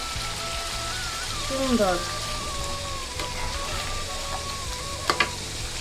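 Stingray fish pieces dropped into hot spiced oil, a loud, steady sizzle and crackle with a few sharp spits, while a voice speaks briefly over it.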